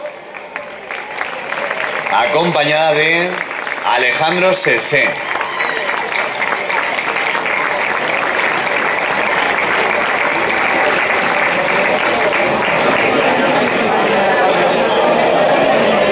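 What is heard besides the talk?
applause welcoming Pilar Artal Navarro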